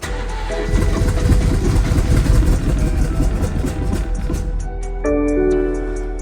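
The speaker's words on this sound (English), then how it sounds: "So I did get the car started." BMW 440i engine cranking and catching after injector and high-pressure fuel pump replacement, firing up loudly and settling into a steady idle with a rising whine near the end.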